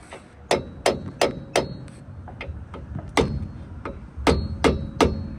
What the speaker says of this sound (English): We're going to get our trusty hammer and mallet.